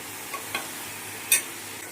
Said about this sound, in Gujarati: હળદર એક ચમચી ધાણા પાવડર બરાબર મિક્સ કરી લઈએ